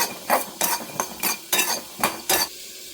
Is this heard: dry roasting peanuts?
yes